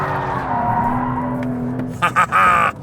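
Porsche 992.2 Turbo S with a 711 hp engine driven hard on a race circuit, its engine drone rising and falling in pitch, followed by a few short bursts of tyre squeal or rushing noise near the end.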